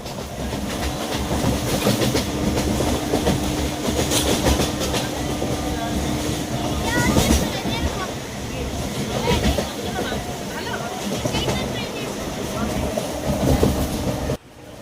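Train at Begunkodar station, a rural stop, producing a steady rumble with clicking and clattering of wheels as it moves, with voices of passengers and staff around it and a brief sharp cut at the end.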